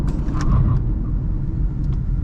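A Toyota Corolla GLI/Altis (2008-2014) slows under normal braking from 70 km/h, a steady low road rumble and engine drone heard from inside the car, easing as it decelerates.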